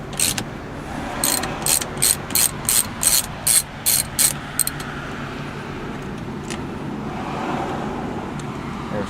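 Ratchet wrench loosening the steering wheel bolt on a 2012 Volkswagen Passat TDI, a quick run of about ten evenly spaced clicks up close, then a steady low background hum.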